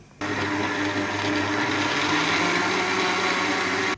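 Mixer grinder whirring as it grinds coconut for coconut milk, starting abruptly and running as a loud steady motor drone with a churning rattle, close up, then cutting off.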